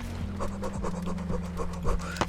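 Rapid, heavy panting breaths from a player character in the frog shooter game Gun Frog, steady rhythmic puffs over a droning game soundtrack with a few sharp clicks near the end.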